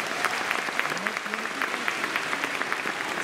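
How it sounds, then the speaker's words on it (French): Loud, steady applause from a large audience at the Miss Picardie beauty pageant, continuous clapping filling the whole stretch with scattered louder claps and crowd noise. "Un tonnerre d'applaudissements pour Arnaud Soldourdin."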